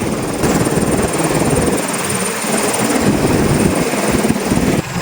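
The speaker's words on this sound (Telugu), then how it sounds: "నాకు ఈ హెలికాప్టర్ వింగ్ సౌండ్ అంటే చాలా ఇష్టం అండి" Loud, continuous helicopter noise heard from inside during a ride over Araku: the deep whirring of rotor blades over a roaring engine, steady and close throughout.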